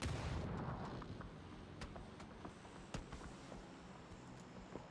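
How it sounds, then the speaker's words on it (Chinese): Scattered gunshots and distant booms from a PCS7 PUBG esports match, sharp individual reports popping irregularly over a dense rumbling battle bed, with no clear voice over it. "这边刚才交火的时候枪声四起"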